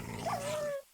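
A summoned direwolf in the Tensura: Reincarnated game gives a brief growl with a thin whining tone that rises and then holds, lasting under a second.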